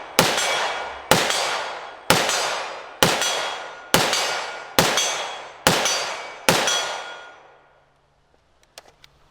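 Eight evenly spaced, loud sharp blasts from a Desert Tech MDRX bullpup rifle in .308 with a 16-inch barrel and ratchet muzzle brake, each shot ringing and decaying before the next, followed by quiet with faint small clinks.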